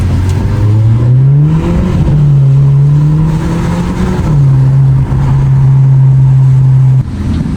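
A car pulls away in first gear on a South African street, its engine note rising and holding steady in a loud, close, continuous drone for several seconds before easing off near the end.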